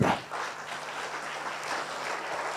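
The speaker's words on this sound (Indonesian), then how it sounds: "Tepuk tangan bagi Tuhan kita." A church congregation applauding for God, a steady crowd clapping at moderate loudness that carries on throughout without any voices.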